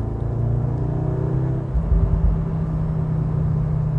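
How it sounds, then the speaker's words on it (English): Low, droning exhaust rumble of a 2021 Audi S3 heard from the cabin while driving, steady with a brief swell near the middle and no voices. "Hear a bit of a rumble in the back."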